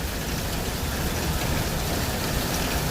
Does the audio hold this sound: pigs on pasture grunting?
no